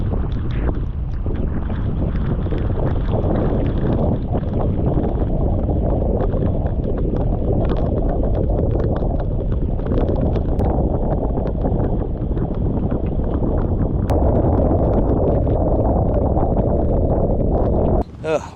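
Steady wind and rain lash the US Virgin Islands during Hurricane Ernesto, a continuous broadband roar with gusty buffeting on the microphone that holds at a constant loud level throughout.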